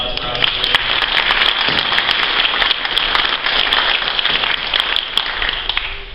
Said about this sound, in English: So let's have a round of applause for Officer Raymond.